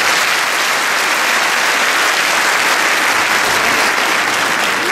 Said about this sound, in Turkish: bir kez daha alkış istiyorum sizlerle.